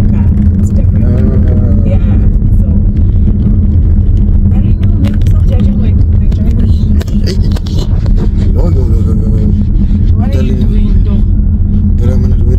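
A slow car being driven, with a steady, loud low engine and road rumble from inside the cabin throughout while people talk over it.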